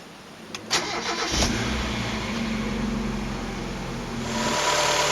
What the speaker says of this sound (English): so now we're going to go and start the engine and run the car until it is full